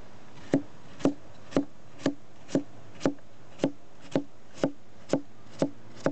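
A Chinese survival knife cutting through a homemade tomato onto a board, about a dozen sharp, evenly spaced chops at a steady rhythm, close and clear, with no talk.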